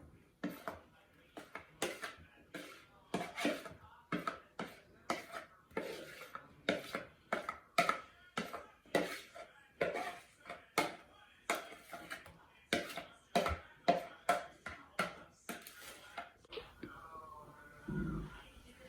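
Apple slices dropped and shuffled into a bowl and a pie crust for an apple pie, making a long run of soft, irregular, close knocks and clatters, with faint whispering underneath.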